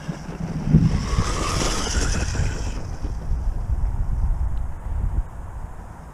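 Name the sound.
RC truggy driving at full throttle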